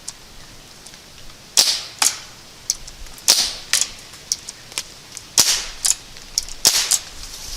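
CO2 air rifle pellets striking targets at 40 yards on a shooting range, heard as a dozen or so sharp, distinct impact cracks spaced irregularly about half a second apart, fairly close and loud, with no talk.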